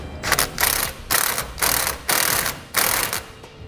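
A 3/8 self-tapping screw is driven into a freshly drilled hole on a truck frame while fitting Air Lift LoadLifter 5000 air helper springs, giving loud close ratcheting bursts in several strokes with short breaks.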